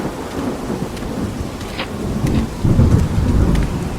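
Heavy rain pours steadily in a thunderstorm over a valley, a deep rumble of thunder rolling beneath it and swelling louder toward the end, with no voices.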